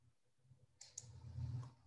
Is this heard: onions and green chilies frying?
no